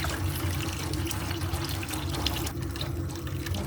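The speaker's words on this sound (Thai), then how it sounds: "เห็ดของเราจะลงไปแช่ในน้ำเกลือนะคะ" Water splashing and running as mushrooms are washed and soaked in salt water to loosen clinging soil, a steady close sloshing sound with no voices.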